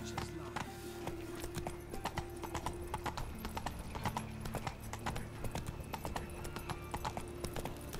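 Roach the horse gallops in the video game The Witcher 3 with rapid, steady hoofbeats over a constant low background, clear and close throughout.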